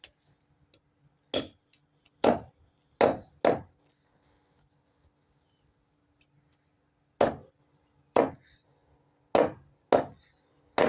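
A knife chops through a cleaned, singed country chicken on a wooden block, giving sharp, loud thwacks, single and in quick pairs, with quiet gaps between them.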